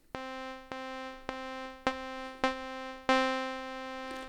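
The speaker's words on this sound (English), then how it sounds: "longer and longer decays." A series of six identical FM synth notes from a Liven Mega Synthesis, each sharp attack fading out a little longer than the one before, ending on a sustained ringing tone.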